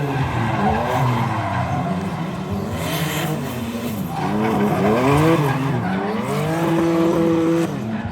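A car drifts with its tires skidding and squealing loudly and continuously, while the engine revs and wavers throughout. No one speaks.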